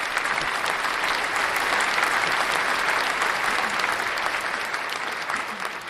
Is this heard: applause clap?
yes